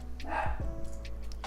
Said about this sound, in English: And there he goes barking.